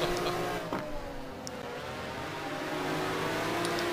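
A Ferrari GT1 race car engine drones steadily at the COTA circuit, a sustained tonal hum with slight pitch shifts, heard at moderate level throughout.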